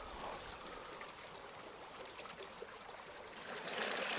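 Water trickles and burbles steadily through a farm irrigation ditch nearby, a soft continuous flow that swells slightly louder toward the end.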